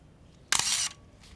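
A Pentax SF7 35mm film camera fires its shutter once, a sharp close mechanical snap followed by a brief whirring burst and then quiet.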